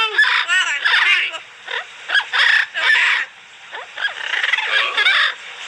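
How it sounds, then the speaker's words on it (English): Exotic birds at an animal ranch call loudly and repeatedly in bursts of squawks and croaking chatter, close by, with short gaps between calls and no talking over them. "Oh, I love the noises. They're so awesome. Hello, pretty birds."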